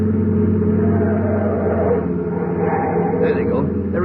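A speeding car races up a highway at around 90 as a radio drama sound effect, a steady droning engine roar that holds loud throughout while voices speak over it.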